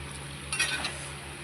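Chekodi snacks fry in hot oil on a stove at medium heat, making a faint, brief crackling sizzle that swells for a moment and then settles back to a low hiss.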